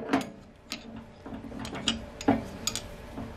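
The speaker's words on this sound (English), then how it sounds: "I'm going to lock my headstock." Headstock being locked on a switched-off lathe, a few quiet metallic clicks and ratcheting knocks spread irregularly, close and faint.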